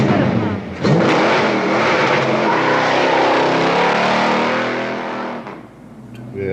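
The General Lee, the Dodge Charger from The Dukes of Hazzard, roars with a loud, sustained engine rev close to the microphone, rising abruptly and then easing off near the end.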